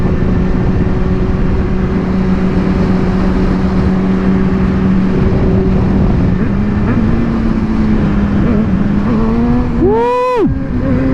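A BMW M1000RR motorcycle engine drones steadily nearby, then revs sharply upward in a rising whine near the end as the rider lifts into a wheelie.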